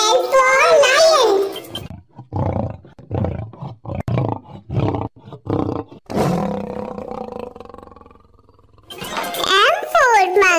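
A lion's roar opens loud and close, followed by a series of short grunting roars, with a voice speaking in between, as in an alphabet lesson for kids.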